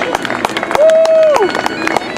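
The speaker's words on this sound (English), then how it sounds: "how about a round of applause for our re-electors?" A crowd at a heritage railway event applauds re-enactors and pyrotechnic experts with rapid, scattered clapping close by, while a long, clear whistle sounds through the middle of the applause.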